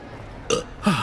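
A character in the video game Hogwarts Legacy burps twice in quick succession, the first short and the second deeper and longer, loud and close with no talk over it.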